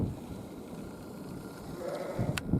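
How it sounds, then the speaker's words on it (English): Sheep on a farm give a few short, faint bleats near the end over a quiet background. "I don't know how old that sheep in the back is, but she's an old one."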